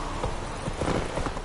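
Roach, a horse in the video game Witcher 3, galloping with quick, rhythmic hoofbeats, fairly close and steady over a short stretch.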